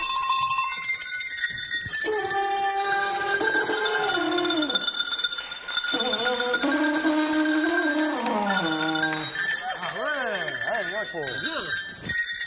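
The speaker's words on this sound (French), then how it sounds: "je vais vous interpréter avec des cloches de vache, une petite mélodie" A small tune played on cowbells during a French television variety show, with ringing metallic tones that step up and down through the melody, loud and close, with voices over them.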